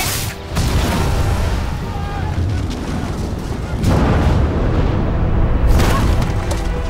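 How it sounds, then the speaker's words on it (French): A huge explosion in a Wonder Woman film scene, as a lasso is wound around Ares, thunders as a long loud rumbling roar with a second surge midway, dense and sustained. "Il y a une maxi explosion"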